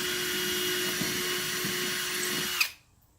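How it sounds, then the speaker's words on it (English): A power drill drives a screw during a rooftop tent build, whirring loud and steady for about two and a half seconds before cutting off abruptly into near silence. "And drill it in."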